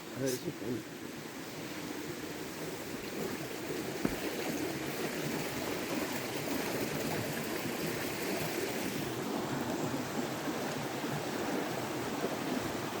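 Cascades and a flowing stream rush around a small island crossed by footbridges at a rural sanctuary, a steady, dense wash of water noise that stays close and even throughout with no breaks.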